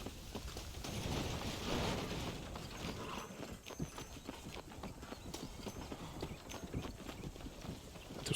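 Horse hooves clip-clop steadily in Red Dead Redemption, a brisk rhythmic patter of hoofbeats over a dense background bed of ambient game sound, moderately close.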